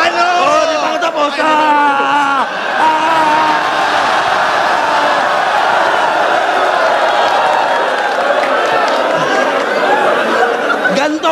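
A FlipTop rap battle audience at Isabuhay, CripLi vs Ban, keeps up loud, continuous noise: overlapping chatter, shouts, chuckles and laughter, with voices rising out of the din throughout.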